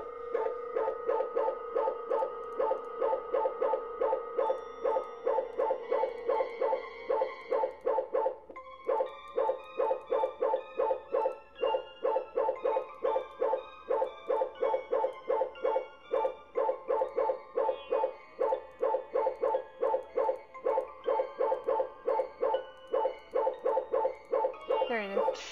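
A dog barks in the video game Foreign Creature 2, repeated yips and barks in a fast, steady rhythm throughout, layered over tonal game music.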